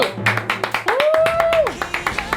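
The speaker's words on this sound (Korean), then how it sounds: "박수" A few people clap in quick, sharp, separate claps close by, with a sung or hummed note drifting across the middle and light voices around it.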